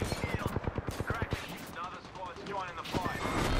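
Rapid automatic gunfire from the Apex Legends video game bursts in a fast, steady rattle, then breaks into scattered shots and sustained firing, loud and dense throughout, with a voice partly under it.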